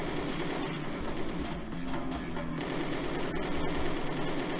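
Rapid automatic gunfire from the shooter video game Codename CURE, a dense continuous rattle of shots filling the whole stretch at steady loudness with a short dip in the middle.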